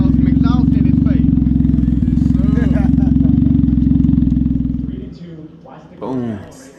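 A Can-Am Ryker Rally fitted with an RLS twin Kaos exhaust rumbles loudly and steadily at close range for about five seconds, then cuts off, leaving voices talking.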